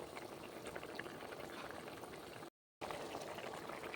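Curry simmering in a pot, a dense steady bubbling and sputtering, close and continuous, broken only by one brief dropout.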